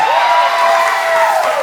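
Studio audience applause for a comedy variety show, a steady wash of clapping that holds at full level for a moment before easing off near the end.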